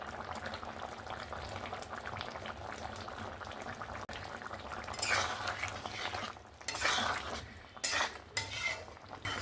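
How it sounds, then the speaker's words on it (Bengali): A spoon stirs and scrapes through raw jackfruit and prawn curry in a pot after garam masala and coriander leaves go in, with gentle bubbling beneath and a few sharper clinks of utensil on pan. "ধনে পাতার গরম মশলাটা দিয়ে আবারও একবার নাড়াচাড়া করে দিলাম"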